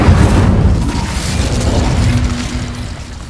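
An Incendio fire spell cast in a video game unleashes a loud, rumbling blast that roars steadily for a few seconds and tapers off slightly at the end.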